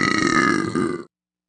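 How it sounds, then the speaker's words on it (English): One big, long, loud burp rumbles for about a second and then stops abruptly, heard alone and close. "George let out a big burp. A huge burp. A super burp."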